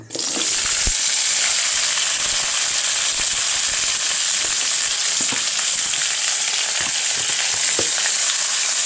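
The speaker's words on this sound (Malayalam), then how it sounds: "ഓയിലെടുത്ത് വെച്ച ശേഷം ഉണ്ടല്ലോ നമുക്ക് വെണ്ടക്കായും തക്കാളിയും കൂടി ഇട്ട് കൊടുക്കാം കേട്ടോ." Okra and tomatoes fry in hot oil with a loud, steady, close sizzle and crackle that runs unbroken throughout, broken by a few faint stirring knocks.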